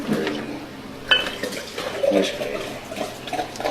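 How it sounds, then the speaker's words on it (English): A large quantity of wine is poured into a big goblet, giving a steady splashing gush of liquid with a few faint clinks, close by and continuous. "You can hear that. Yeah, that sounds like a lot of wine."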